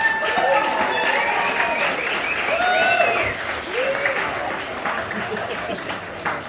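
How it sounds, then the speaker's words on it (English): Wedding guests applaud the speeches with steady, fairly close clapping that holds throughout, with some voices and calls heard over it. "Let's get another really big round of applause for the speeches."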